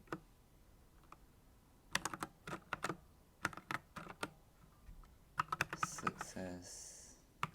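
Bursts of code being typed on a computer keyboard, quick clustered key clicks arriving in several flurries with pauses between, close and fairly clear, with no talking over them.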